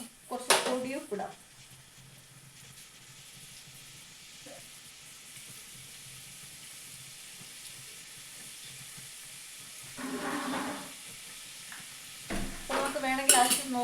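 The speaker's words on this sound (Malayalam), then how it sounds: "അപ്പോൾ ആ ഉപ്പ് എല്ലായിടെയും എത്തുന്ന രീതിയിൽ ഒന്ന് ഇളക്കി കൊടുക്കാം." Spoon stirring chicken curry with added salt in a pan, quiet scraping and soft sizzle across the clip, with louder clattering bursts at the start and near the end.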